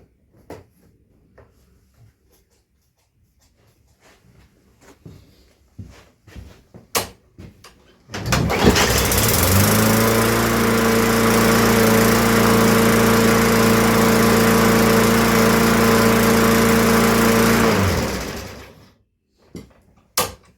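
A Yard Machines lawn mower that had trouble starting runs fast after a few knocks and clunks, its engine roaring loud and steady for about ten seconds before cutting off abruptly.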